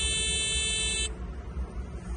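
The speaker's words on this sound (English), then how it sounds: "When I hear the beep, that's when I know where the water level is." An electronic water level meter lowered down a well sounds a harsh, buzzing beep for about a second, then cuts off and leaves a low rumbling background.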